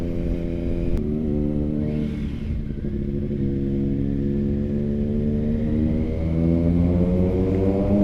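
Engine of a 2022 Triumph Tiger 900 motorcycle during a demo ride, a steady loud three-cylinder drone heard close up with wind rush and a gradual rise in pitch as it cruises.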